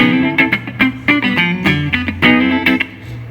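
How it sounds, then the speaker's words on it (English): Electric guitar with its neck humbucker coil-tapped to single-coil, giving a thinner Strat-like tone, played as a quick run of picked notes and short chords, close and fairly loud with no voices. "Which is just a little bit more a strattier sound"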